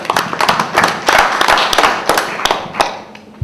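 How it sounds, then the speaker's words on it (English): Pub quiz audience in Pontefract breaks into a round of applause, dense close clapping with sharp hand slaps throughout, loud and steady before thinning toward the end. "Worth a round of applause, I think."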